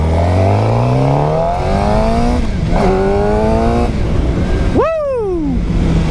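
A 2018 Suzuki GSX-R 750 motorcycle revs hard while riding, its loud engine whine climbing through the gears with shifts between, then a sharp blip of throttle that rises and falls away, close and continuous.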